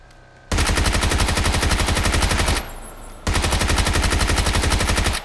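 Rapid automatic gunfire in the video game PUBG, two long, loud sustained bursts separated by a brief pause, close and steady with no voices.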